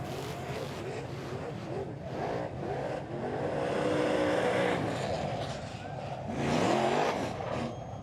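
Super sedan race car engine on a celebratory victory lap past the grandstand at a Toowoomba clay speedway, a loud continuous roar that swells and fades as it passes, with crowd and track ambience behind.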